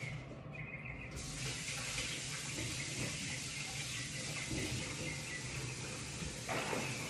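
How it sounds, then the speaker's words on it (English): Hands being washed under a running kitchen tap after baking protein cookies, a steady broadband rush of water flowing continuously for several seconds, fairly close, with small splashy changes as the hands move and no talking. "Let me wash my hands."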